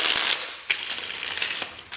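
Tarot cards being shuffled by hand, a dry rapid riffling and flicking of card stock heard close and alone, with a sharper snap partway through and a few quieter card slaps after.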